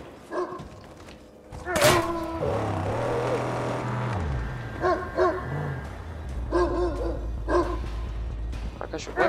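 A dog barks in repeated short bursts amid Mad Max video game engine and impact noises, with people talking over it.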